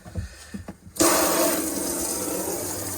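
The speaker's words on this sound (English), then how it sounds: "Be careful how pressurized you have that tap, so just open it slowly" Hot water from the tap in a 2016 Adria Matrix 670 SL caravan suddenly gushes on after a second of quiet, a steady, loud hissing stream of running water that continues to the end.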